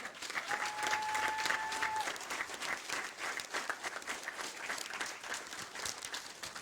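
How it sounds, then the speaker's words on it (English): A graduation audience gives a steady round of applause for teachers and staff, a dense wash of many hands clapping at moderate distance with a faint tone sounding briefly early on. "let's everybody give them a round of applause"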